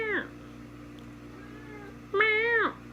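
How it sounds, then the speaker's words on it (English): A house cat meows twice, the two calls clear and fairly close with a quiet pause between them, over a low steady background hum. "This is no place for a cat, Chad."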